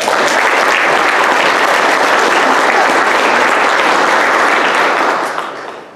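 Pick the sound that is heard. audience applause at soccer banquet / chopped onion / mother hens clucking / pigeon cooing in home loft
audience applause at soccer banquet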